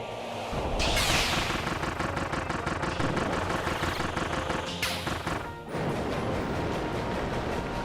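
Video game gunfire in a Kirby adventure: a sustained run of loud, rapid shots and impacts crackles for several seconds, briefly broken by a sharp burst before continuing.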